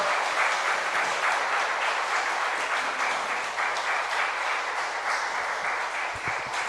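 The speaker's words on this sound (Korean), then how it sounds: "이 시간 나오실 때 박수로 환영해 주시면 고맙겠습니다" A church congregation at a Sunday morning service, marking the church's 49th anniversary, gives steady, sustained applause from start to finish, loud and evenly dense with no talking over it.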